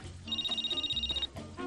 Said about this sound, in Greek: Μαρούσκα, Μαρούσκα, τηλέφωνο.